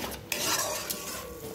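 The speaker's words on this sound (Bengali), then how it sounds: "তারপর ভালো মতন আমি একটু কষাবো" Mustard and poppy seed paste stir-fried in a pan, a brief close bout of spatula scraping and clinking against metal over a soft sizzle, with no talking.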